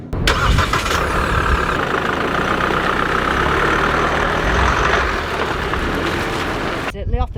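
A KGM Musso pickup, formerly SsangYong, cranks over and settles into a steady mid-low idle close by, then a short burst of voice breaks in near the end.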